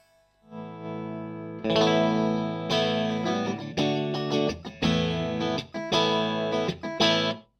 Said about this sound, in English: So the AC30 has got a scoopy thing going on.